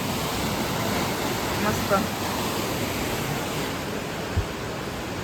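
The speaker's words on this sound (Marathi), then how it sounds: "किती भारी पाणी जात आहे." A river runs strongly in a broad, steady rush of water, heard up close as a continuous roar while a voice briefly speaks over it.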